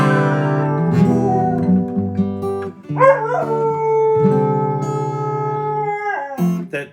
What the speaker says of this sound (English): What we learn here is that dogs can sing.